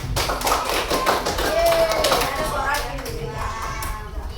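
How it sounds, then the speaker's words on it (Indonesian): Children in a primary school classroom clap for their classmates, a steady patter of small hands that runs throughout at moderate level, with some chatter and other voices mixed in. "tepuk tangan dulu untuk teman-teman"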